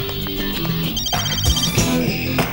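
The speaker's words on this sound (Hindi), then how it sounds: "दिव्या का फोन है यार" A telephone rings in a dramatic scene from a Hindi-dubbed South Indian blockbuster, its trilling electronic tone sounding amid background score and room noise at moderate volume.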